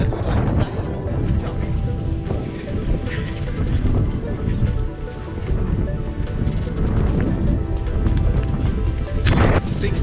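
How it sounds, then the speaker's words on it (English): Strong wind blusters across the microphone outdoors by choppy water during a run, making a loud, continuous low rumble with frequent buffeting thumps and no clear talk. "it's a bit windy out here today."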